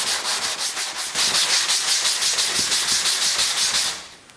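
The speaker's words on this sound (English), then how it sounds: "in an X pattern to sand this out and basically provide a nice uniform surface" A sanding block rubs back and forth by hand across a fiberglass panel under repair, working in an X pattern; the steady, close scratchy strokes repeat rhythmically and stop near the end.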